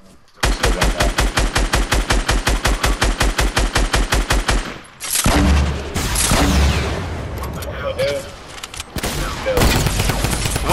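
Fast regular automatic gunfire in a shooter video game, a long rattling burst of evenly spaced loud shots for about four seconds, followed by explosions and more scattered fire.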